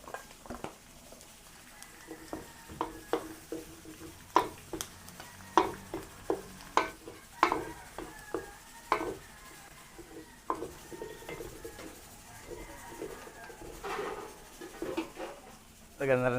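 Garlic sautés in a pan for a Christmas Eve dish, soft sizzling under repeated scraping and stirring clatters of a spoon against the pan, close, with a voice speaking at times.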